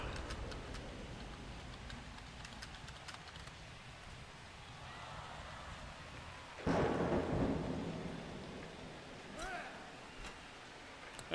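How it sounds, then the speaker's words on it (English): Rain and thunder weather effects in the Blood Bowl video game: a steady rain hiss throughout, with a loud rolling thunder crash in the middle that fades slowly, then a brief lighter rumble near the end. "This rain is terrible for me."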